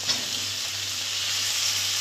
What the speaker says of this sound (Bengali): মশলাটা আমার কষে এসেছে, আমি এবার টমেটো কুচিটা দিয়ে দিচ্ছি।